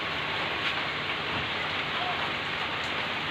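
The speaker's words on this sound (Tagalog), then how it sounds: "Umulan na naman guys." Steady soft hiss of rain falling over rice paddies, an even, continuous wash of drops with no breaks, fairly faint and heard alone.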